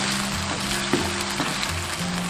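Sauce seasoned with salt, sugar, soy sauce, oyster sauce and rice wine bubbles and sizzles in a pan, a dense, even hiss with a few soft pops up close and no talking.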